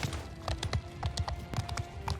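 Horse archers galloping across a Bannerlord battlefield, a dense patter of hoofbeats in quick irregular clusters over a low rumble of battle, moderately loud and steady with no talk.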